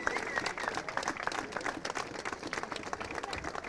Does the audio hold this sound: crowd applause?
yes